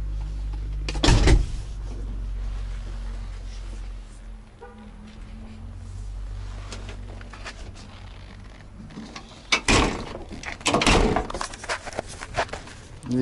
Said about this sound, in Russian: Дверь чуть не закрывается.